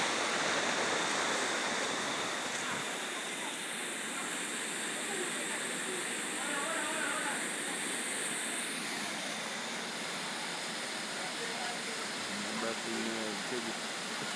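Hope River water rushes in a steady, broad roar like a small waterfall or rapids, close and continuous, with faint voices occasionally heard beneath it.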